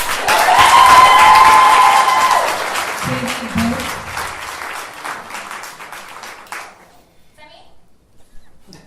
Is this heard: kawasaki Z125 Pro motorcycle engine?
no